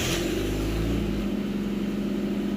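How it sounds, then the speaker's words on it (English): A Mazda Miata engine fitted with Megasquirt engine management cold starts on a cold day, a loud, close, rough idle with low throbbing firing pulses that briefly swells in revs and then eases back. "cold start."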